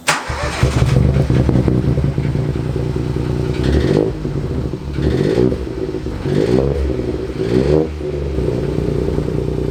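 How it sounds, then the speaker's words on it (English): A 1.0-litre EcoBoost engine in a rebuilt Ford Fiesta MK7 idles roughly with a loud, raspy exhaust in bad condition, revving up several times in surges before settling back to a rumbling idle. "I already knew the exhaust sounded terrible"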